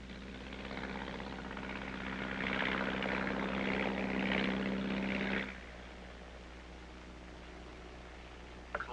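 An artillery fire-control propeller plane flies over in Korea, a continuous droning roar that swells in the middle, then drops off abruptly and leaves a quieter engine hum.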